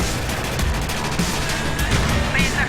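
Tank gunfire strikes from behind in the tank combat game World of Tanks, heard as a rapid fusillade of loud, cracking shots and impacts. The hits are dense and sustained, with faint voice traces mixed in.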